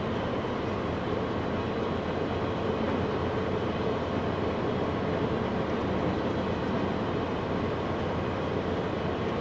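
An Amfleet II passenger train on the snowy Eastpoint branch, running from Eastpoint to Jamaica in a train simulator, gives a steady, continuous low rumble and rolling rail noise at even loudness throughout, with no voices.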